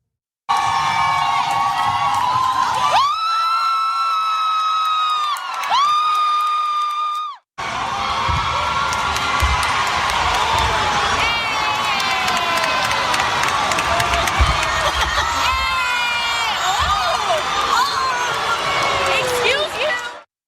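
A graduation ceremony crowd shouts, cheers and calls out at length as students are dragged off the stage. The reaction is loud and sustained, with a brief drop near the middle and individual voices rising above the din.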